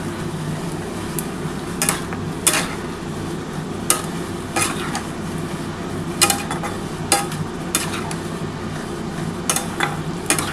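Spiced water goes into mustard masala sautéed in a pan for a Bengali prawn and gathi kochu dish, with a steady bubbling sizzle and repeated sharp clinks of a spoon against the pan, close by.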